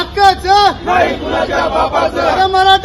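A crowd of Maratha protesters at Lal Mahal in Pune chants loud slogans in celebration, voices rising and falling in rhythmic shouted calls, close and energetic.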